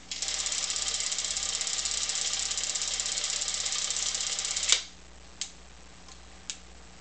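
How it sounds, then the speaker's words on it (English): A Bolex H16 16mm film camera runs at 8 frames per second, giving a steady close mechanical whirr with a fine ticking texture for nearly five seconds, then stops abruptly, followed by a few isolated faint clicks. "Tested at different speeds now."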